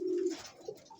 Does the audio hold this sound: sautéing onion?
no